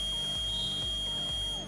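A small buzzer on a homemade water overflow alarm sounds as one steady, continuous high-pitched tone, fairly loud and close, alone without speech.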